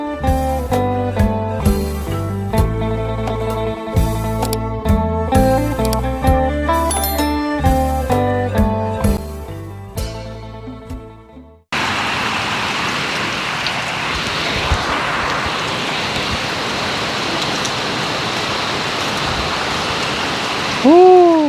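Steady morning rain pouring down outside a home in rural Thailand, a dense continuous hiss after a burst of music ends, close and fairly loud with no talk over it.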